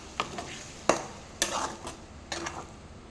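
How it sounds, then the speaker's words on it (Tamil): A spoon scrapes and stirs through masala gravy with potatoes and peas in a pan, giving a few separate clinks and scrapes over a soft background sizzle. "எல்லாத்தையும் போட்டு நல்லா ஸ்டேர் பண்ணிக்கலாம்."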